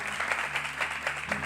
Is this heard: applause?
yes